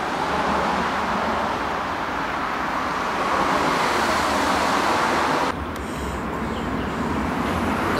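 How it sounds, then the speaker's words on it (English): Road traffic near Sarn in Aberkenfig on a spring walk, with cars rushing past close by in a steady loud roar that drops abruptly near the end to a quieter background hum. "Excuse all the cars getting in the way."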